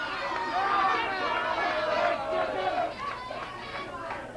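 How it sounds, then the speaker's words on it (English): Wrestling crowd at a 1966 Kansas match loudly hollering and jeering in anger at a wrestler's taunts, a dense continuous roar of many voices with sharper shouts rising and falling. "one of Brown's hollered taunts at Patterson draws the wrath of the crowd."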